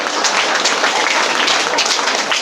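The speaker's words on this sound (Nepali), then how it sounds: "ताली बजाउने हो भनेपछि त अलि मजाले बजाउँ न" An audience at a direct selling business seminar claps on request, producing a dense, steady burst of applause at full volume for a couple of seconds.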